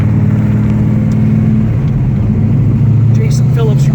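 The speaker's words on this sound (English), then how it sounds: "We're going to drive this car." A 1969 Dodge Charger Hemi R/T engine hums steadily while driving, its pitch dropping as it shifts, with some faint talk near the end.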